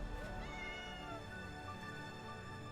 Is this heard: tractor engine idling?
no